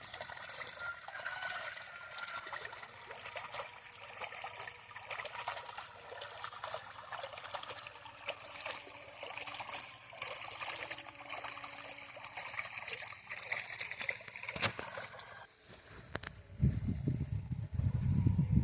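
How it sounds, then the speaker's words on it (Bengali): Irrigation water flows and trickles steadily across a field watered for jujube (kul) trees, a soft continuous gurgle that carries on for the whole stretch, with a brief louder disturbance near the end. "জল যাচ্ছে।"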